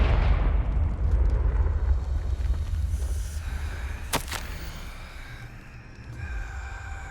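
Confringo fire spell explosion in Hogwarts Legacy: a heavy, booming blast that rolls off into a long rumbling decay, followed by a sharp crackling burst and a faint magical shimmer as it fades.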